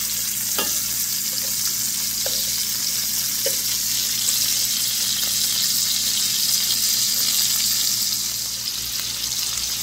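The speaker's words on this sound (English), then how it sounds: "Don't need to add any oil because the bacon has oil in it. When the sausage is golden," Sausage frying in rendered bacon fat in a pan, a steady close hiss of sizzling grease running throughout with a few faint clicks of stirring or turning, no talking.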